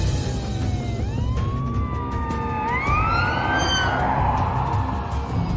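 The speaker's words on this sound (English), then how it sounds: "Sirens on." A police patrol car siren on a British road wails in rising and falling sweeps, loud and close over steady engine and road rumble.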